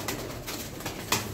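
Sütbeyaz pigeons cooing softly nearby, a few low, broken coos over a muffled, fluttering background with one brief louder burst near the end.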